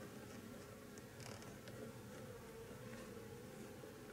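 Low, even humming of bees inside a beehive beneath a plexiglass inner cover, a faint continuous drone with a few brief wingbeat flickers and no voices.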